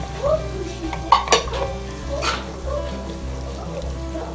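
A spoon stirs yogurt into masala in a karahi pan for a meat kebab dish. There are a few sharp metallic clinks and scrapes against quiet cooking noise.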